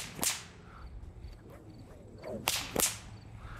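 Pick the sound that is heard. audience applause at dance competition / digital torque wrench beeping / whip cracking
whip cracking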